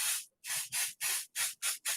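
Seven short hissing bursts of pixie spray aimed at a stencil, each about a quarter second long with brief pauses between, close and fairly loud.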